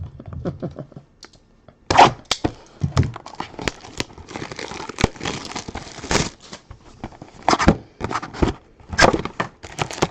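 Firecrackers set off nearby, heard as scattered sharp cracks and pops in irregular bursts, some loud and close, others smaller crackles, with no talking.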